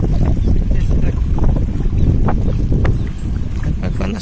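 Wind blowing steadily outdoors beside a river, a loud continuous low rumble with gusting buffeting against the microphone and some water movement, with people talking faintly at times.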